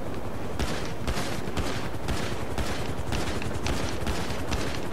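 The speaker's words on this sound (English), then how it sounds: "Oh my god, I'm being shot." Sustained gunfire in the video game GTA V, a dense rapid stream of loud shots hammering continuously at close range with no talking.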